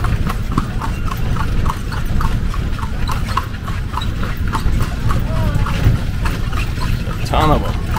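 Many horses' hooves clip-clop on the street as they pull old carriages through Vigan City in the Philippines, a brisk regular clatter that is close and continuous under general street noise, with a brief chirp near the end.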